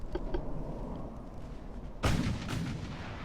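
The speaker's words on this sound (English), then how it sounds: "getting hosed by 6-inch gunfire" Naval 6-inch guns fire in the battleship strategy game Ultimate Admiral: Dreadnoughts, heavy booms under a dense rumble of battle, with one loud close blast near the end.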